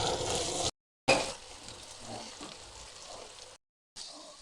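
Aloo chana dal shami kebabs fry in a pan, giving a soft, steady sizzle at close range that is broken by two short silent gaps.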